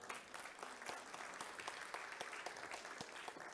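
A seminar audience applauds a panel guest as she is introduced, with steady, sharp clapping from a modest crowd. The applause sounds faint and distant and keeps going evenly.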